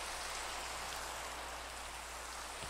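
Steady, dense rain hisses continuously at an even level, with no voices and no breaks, in the video game Vivecraft, a virtual reality version of Minecraft.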